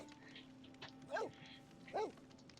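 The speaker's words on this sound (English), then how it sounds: "I don't know why the dog's barking." A dog barks twice outdoors, two short yelping barks about a second apart, faint and somewhat distant over a quiet background with light murmuring.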